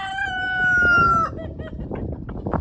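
A rooster crows loudly and close, followed by a flock of chickens clucking and scratching about in a busy, continuous chorus.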